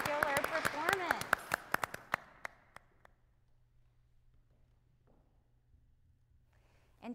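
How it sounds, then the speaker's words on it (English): Applause from a live concert audience after a trumpet performance: dense, crisp clapping with a voice over it, thinning out and dying away after about three seconds into near silence. "applause for that spectacular performance"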